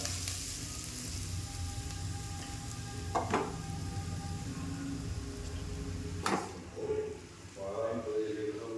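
Grated carrot for carrot halwa fries in ghee with a continuous sizzle, broken by a couple of sharp knocks and scrapes of stirring. A voice is briefly heard near the end.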